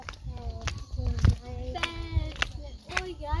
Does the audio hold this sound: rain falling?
no